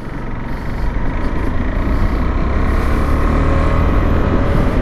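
A 2024 KTM Adventure 390 X motorcycle being ridden, its engine droning steadily and loud with heavy wind and road rush, no pauses.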